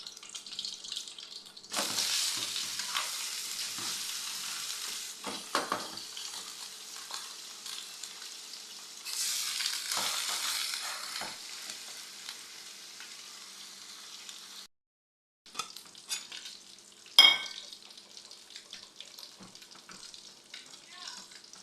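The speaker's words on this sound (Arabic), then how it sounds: "انا هحمرها علشان خاطر الفراخ المسلوقه لما بتتحمر بيبقى طعمها جميل خالص" Pieces of boiled chicken fry in hot oil with a soft, steady sizzle and crackle, swelling louder at times, with faint stirring and handling noises and a brief pause near the end.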